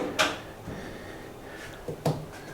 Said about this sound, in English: Look at this modern drawer cabinet.